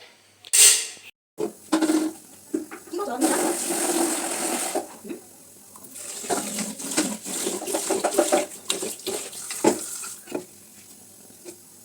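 Running hot tap water gushes in bursts, starting and stopping, with splashing and clattering as chicken is rinsed and handled underneath.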